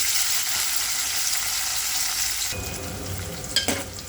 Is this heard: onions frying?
yes